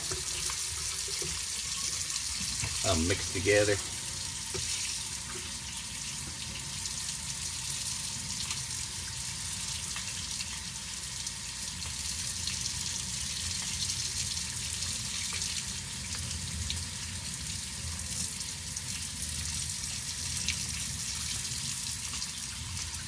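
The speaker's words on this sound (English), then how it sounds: "I'm going to turn on the water here so as I pour that boiling hot water in there" A kitchen tap runs steadily into a sink throughout, a continuous hiss of flowing water while cooking, with a brief spoken remark early on.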